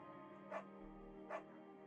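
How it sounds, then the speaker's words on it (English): A scruffy, undersized beagle in the video game Firewatch gives two short barks about a second apart, moderately close over a steady low game ambience. "There's a scruffy, undersized beagle."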